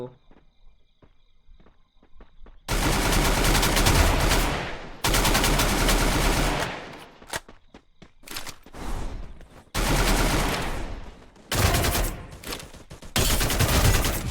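Gunfire rings out in the battle-royale video game Free Fire as repeated loud bursts of rapid shots with short pauses between volleys, some bursts long and sustained, others clipped. A voice speaks in the gaps.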